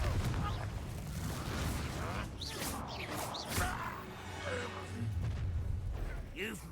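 Fiery Confringo blast spell cast in the Hogwarts Legacy video game, a couple of sharp bursting hits amid dense combat effects and character voices over a constant rumbling game mix.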